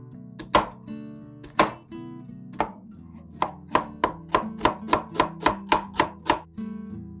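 A knife chopping an onion on a cutting board, a few slow separate cuts followed by a quick, even run of about a dozen close, crisp chops.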